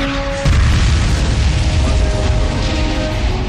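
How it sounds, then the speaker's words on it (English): A tank cannon fires with a sudden deep boom, followed by a sustained loud rumbling roar that fills the clip. "We open fire on them"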